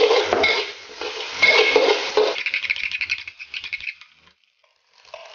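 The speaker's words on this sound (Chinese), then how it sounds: "下入腊肠跟牛肉，加入鸡蛋， 把它们均匀翻炒。" Sausage, beef and egg being stir-fried in a wok, with quick scraping, stirring and clattering of a spatula against the pan over a faint sizzle. The sound is close, busy and irregular before it tapers into quiet near the end.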